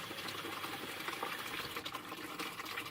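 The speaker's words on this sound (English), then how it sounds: "And then we're going to flush all the crap that's in the radiator out through the bottom." Water from a garden hose rushes steadily through a car radiator, flushing debris out the bottom drain in a continuous, even gush with no talk.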